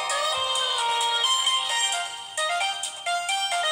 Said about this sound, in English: Oh, I like this ringtone.